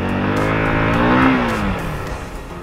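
An FKM 3GP motorcycle on a test ride accelerates with a rising engine whine that climbs in pitch, peaks, then drops off as the throttle eases, close and loud with no talk.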